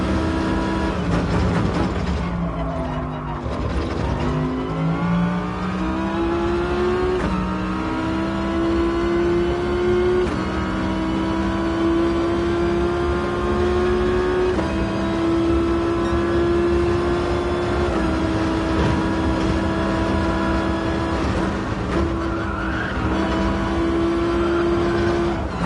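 A Gran Turismo Sport GR1T race car engine droning loudly and continuously, its pitch climbing and settling through gear changes with a strong steady harmonic whine throughout, no voices over it.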